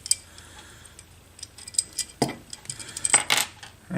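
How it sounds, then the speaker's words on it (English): Small metal parts click and tick as the sear is removed from an Inception FLE 45 RIP frame, with sparse light taps followed by a few sharper metallic clacks near the end and no talking. "let's take the sear one off, and I hold the top of that sear so nothing flies out"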